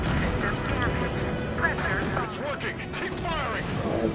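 Gunfire from the video game Halo 5: Guardians rattles in dense, overlapping bursts and booms, continuous and busy throughout, with game sounds layered underneath.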